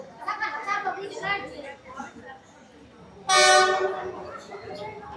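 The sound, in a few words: train passing along Train Street, sounding its horn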